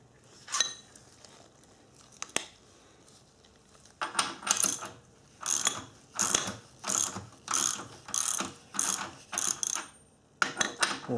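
A ratchet tightens a bolt on a Speedy Lift floor jack with a few isolated clicks, then a run of rhythmic bursts of rapid metallic clicking, close and distinct, each stroke separated by brief pauses.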